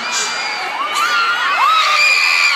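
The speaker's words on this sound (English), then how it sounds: "People are screaming too loud." A concert crowd of fans shrieks and cheers continuously at a concert tour show, high-pitched screams rising and falling in a dense, loud wash with no pause.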